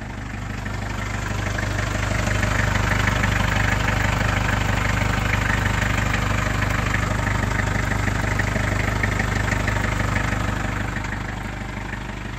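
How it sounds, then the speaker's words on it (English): A 1991 Toyota Liteace 4x4 camper truck engine, mounted under the passenger seat, idling steadily from outside, a loud, low rumbling drone with constant vibration and no break in its rhythm. "Give you an outside audio of the engine, which lives under the passenger seat."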